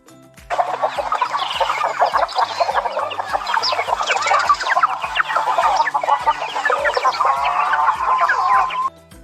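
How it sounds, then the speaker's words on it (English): Farm chickens cluck in a steady, busy stream, many short, loud calls overlapping close by from start to finish with no talking. "Chicken."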